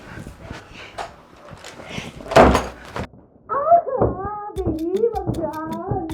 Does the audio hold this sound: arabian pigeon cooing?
no